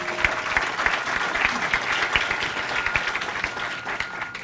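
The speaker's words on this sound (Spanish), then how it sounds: "a quien recibimos con un fuerte aplauso" An audience at a panel event of the Barra Mexicana Colegio de Abogados applauds to welcome a speaker, sustained dense clapping from a crowd filling the room, close and steady for several seconds.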